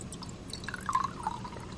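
Water poured into a paper cup, a short, quiet trickle with a rising gurgling fill tone, near and alone.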